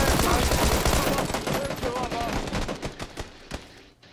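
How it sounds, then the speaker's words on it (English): Video game gunfire: rapid, loud bursts of automatic shots cracking in a steady rhythm, then thinning into scattered single shots as the barrage fades, with faint talk mixed in. "There's someone across the street shooting at us."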